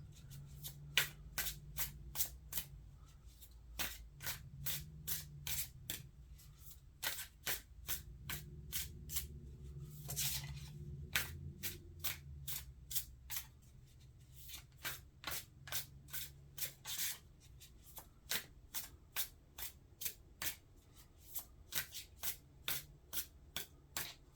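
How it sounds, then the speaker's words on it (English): Cards are shuffled over and over in quick, crisp riffling bursts, close and fairly quiet, with brief pauses and a low murmur underneath. "Thanks in advance for your patience with my shuffling technique."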